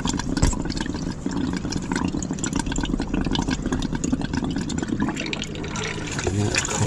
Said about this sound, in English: that's washing through some lovely treated water